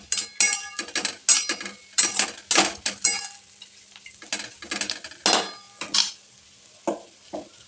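Roasted peanut powder being stirred into a dry potato sabzi in a pan, a spoon scraping and clinking against the metal in steady, repeated strokes, close by and fairly quiet with faint sizzling between.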